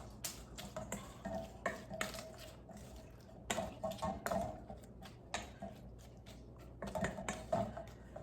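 Toasted corn tortilla strips, enchilada sauce and cheese tossed for chilaquiles, giving soft scraping stirs and light clinks of a utensil against a pan in irregular bursts, quiet and close, with no talk.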